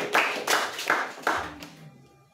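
A church congregation claps in steady rhythm to acclaim Jesus: four or five even claps about a third of a second apart, fading out before a sudden thump.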